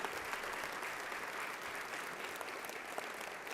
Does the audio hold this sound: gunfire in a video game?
no